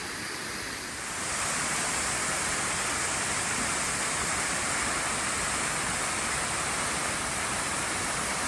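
Water rushing over a weir on Lady Northcote Creek, a broad continuous roar that swells in after a moment and holds steady and close with no voices.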